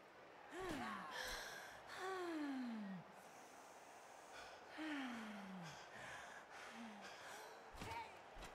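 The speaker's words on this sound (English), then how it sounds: "it's the panting as well" Video game players moan and pant in a football-style match, with repeated short gasping, falling grunts and breathy sighs over a faint crowd murmur.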